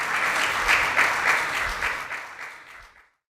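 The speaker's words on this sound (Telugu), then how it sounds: "గట్టిగా చప్పట్లు కొట్టి దేవునికి స్తోత్రం చెల్లిద్దాం." A church congregation claps loudly in praise, a dense burst of applause that rises and falls slightly before stopping abruptly.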